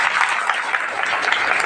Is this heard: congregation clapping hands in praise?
yes